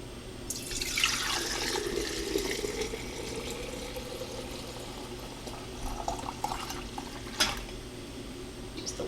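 Turkey bone broth is ladled into canning jars in a home kitchen, with liquid pouring and splashing sounds, light clinks and drips, moderately close and continuous.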